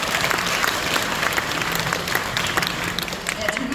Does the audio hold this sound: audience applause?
yes